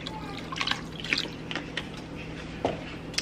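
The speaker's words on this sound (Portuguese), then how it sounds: "Então eu vou colocar um pouquinho mais de água." Water poured into a gelatin and pineapple dessert mixture in a home kitchen, heard as faint scattered drips and small splashes over a steady low hum.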